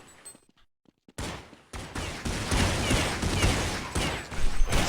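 Rapid bursts of rifle fire in a Counter-Strike match on the de_nuke map, loud and dense, crackling continuously after a brief quiet opening.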